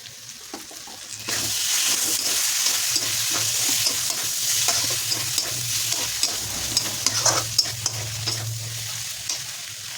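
A vegetable sabji sizzles loudly in a pan after turmeric goes in, starting quieter and then swelling into a continuous crackling fry with frequent spatula scrapes and stirring clacks, near and without speech.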